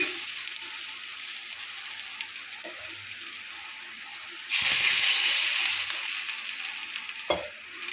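Chili powder gravy for a greens kuzhambu boiling and sizzling in a pan, a steady frying hiss that swells louder midway, with a couple of faint utensil knocks and no talk.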